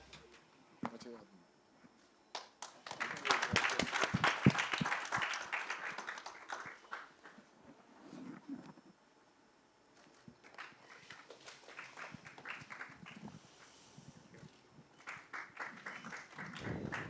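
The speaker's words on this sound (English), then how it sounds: "Round of applause to welcome him, please" An audience claps to welcome a guest on stage at a product campaign premiere, with a burst of applause that fades, then lighter scattered clapping mixed with footsteps and people talking.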